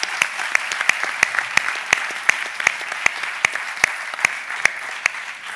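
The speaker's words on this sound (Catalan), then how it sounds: "Favor, un aplaudiment." Sparse, slow clapping at a conference session, a few sharp distinct claps in a steady rhythm rather than full applause, fairly close with no talk.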